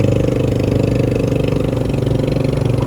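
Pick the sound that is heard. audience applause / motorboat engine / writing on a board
motorboat engine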